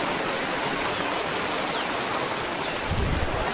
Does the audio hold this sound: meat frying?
no